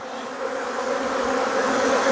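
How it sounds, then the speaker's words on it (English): Honey bees swarm thickly during a hive transfer, a dense, continuous buzzing drone that is loud and close, with no voices over it. "Look at all those dang bees, man."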